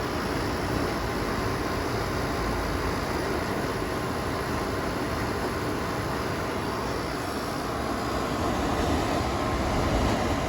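A portable air conditioner runs and blows out hot air, making a loud, steady broadband whoosh of fan and airflow that holds constant throughout with no breaks and no voices.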